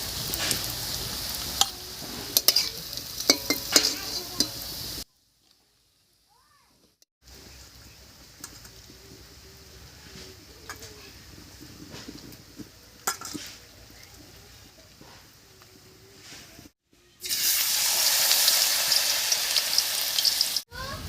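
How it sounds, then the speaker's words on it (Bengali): Potato leaf fritters fry in hot oil, a steady close sizzle with occasional utensil clinks, broken by a near-silent gap around five to seven seconds and rising louder again near the end. "একইভাবে সবগুলো বড়াই ভেজে নেব"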